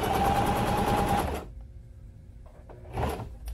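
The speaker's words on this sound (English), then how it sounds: "So I lock stitch it down." Sewing machine running a steady, rapid lock stitch on a sling saddle, loud and close for about a second and a half, pausing, then starting again briefly.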